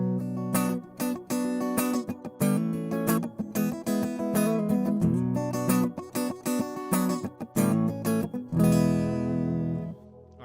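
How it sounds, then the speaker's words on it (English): A guitar played through the Boss acoustic simulator on a Headrush unit: rhythmic strummed chords with short pauses, then a sustained ringing chord that fades, close and clear with no talking. "And here is the Boss acoustic simulator."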